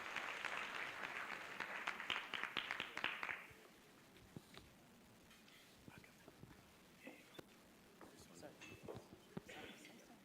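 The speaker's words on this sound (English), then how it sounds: "Yes, let's give him a round of applause" Audience applause welcoming a speaker, Chris, to the stage at a brand awards launch in Kenya, loud for about three seconds and then thinning to scattered faint claps amid room noise.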